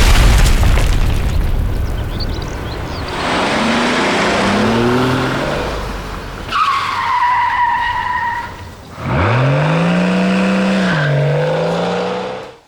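Explosions and hard maneuvers during a BMW protection driving training course: a loud sustained roar with bursts and booms, engine and tire skidding sounds with rising whines, continuous and close throughout.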